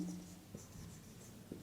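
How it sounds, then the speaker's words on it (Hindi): A chemical equation is written out, giving faint, close scratchy strokes and a couple of light taps over a quiet background, no talk. "तो यहाँ पे लिखते हैं"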